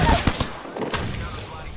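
Gunfire in a battle-royale shooter game, a quick cluster of sharp shots in the first half second followed by scattered fainter pops, with a voice speaking briefly.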